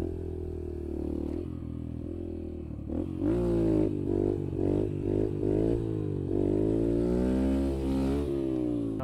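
Yamaha TTR 125 motorcycle ridden on pavement, its small single-cylinder engine revving up and down in repeated surges as the rider wheelies, close and steady throughout.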